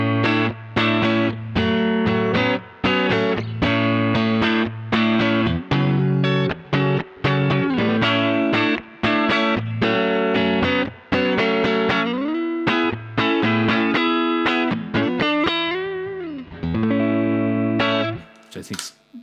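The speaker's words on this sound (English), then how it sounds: "the first pedal in the chain is my compressor, which sounds like this" Electric guitar run through a compressor pedal at the head of a pedalboard, squeezed hard: a busy, even-level run of picked notes and chords with a sustained, flattened attack, close and loud with no talk.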